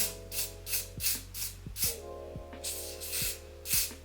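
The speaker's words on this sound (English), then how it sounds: "I'm just gonna spray that along the hairline." Repeated short hissing bursts of an aerosol adhesive spray along a wig hairline, about eight quick sprays in an uneven rhythm, close and fairly soft.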